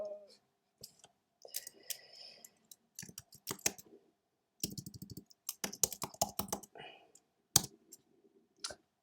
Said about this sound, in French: je veux un bruit de clavier